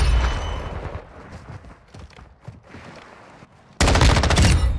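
M13B assault rifle firing in the video game Modern Warfare 2, loud close bursts of rapid automatic fire at the start, quieter scattered shots, then a sudden heavy sustained burst at the end.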